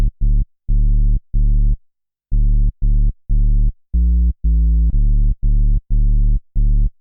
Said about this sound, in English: This is a retro synth sound.